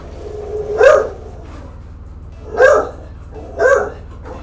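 A dog barks three times in separate bursts, each a short, sharp bark spaced a second or so apart, fairly close and loud over a low steady hum in the background.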